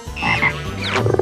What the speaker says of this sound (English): Red frog.